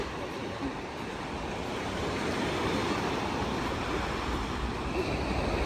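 Ocean waves wash onto a beach in a continuous broad roar, with some wind buffeting the microphone and the surf swelling slightly louder partway through.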